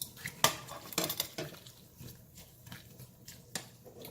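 Asparagus and Taiwanese spinach tossed into a pot while making instant noodles, giving sharp clatters and metallic clinks of utensil on cookware, a few bright hits early then scattered lighter taps.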